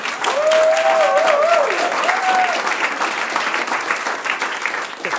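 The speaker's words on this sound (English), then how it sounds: "How about a round of applause?" An audience bursts into a steady, loud round of applause at the opening of a live food-themed event, a voice briefly calling out over the clapping early on before the crowd carries on alone.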